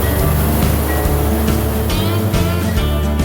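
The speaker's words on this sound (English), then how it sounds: "this boat was louder than a rock concert inside a jet engine" A loud boat engine drones steadily while the boat runs on a Cajun bayou. The dense, roaring noise is close and unbroken, with water rushing underneath, and nobody speaks.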